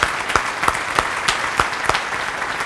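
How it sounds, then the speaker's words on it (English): An audience at a leadership luncheon applauds in a loud, steady wash of clapping, with individual hand claps popping out at regular intervals throughout. "giving them a round of applause for the things that I just said"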